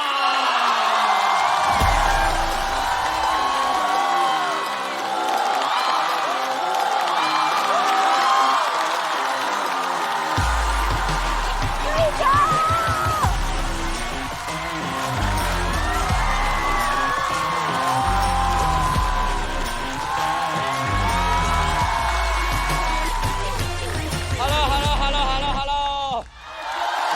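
A studio audience at a stand-up comedy show bursts into loud, sustained applause and cheering with whoops and yells, continuing for a long stretch before fading at the end.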